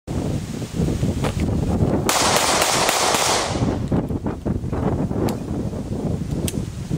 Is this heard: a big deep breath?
no